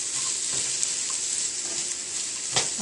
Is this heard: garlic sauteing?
yes